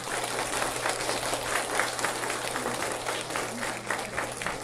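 A church congregation at a summer retreat service applauds, a moderate, dense patter of many hands carrying steadily throughout over a low constant hum.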